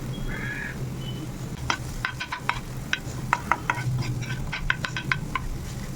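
Oats roll stuffing stir-frying in a pan gives a soft sizzle with a quick run of sharp spatula clicks and scrapes, while a crow caws faintly in the background at the start.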